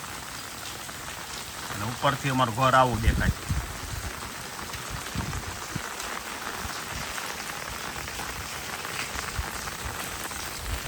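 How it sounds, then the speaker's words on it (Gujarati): Rain falls steadily on a street in Savarkundla, a continuous even patter heard nearby, with someone speaking briefly over it early on. "થોડોક વરસાદ આવ્યો છે"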